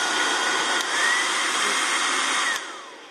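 A BaByliss D372E 2000 W hair dryer running on its first speed, a steady close whooshing blow with a faint motor whine, holding level before easing off near the end.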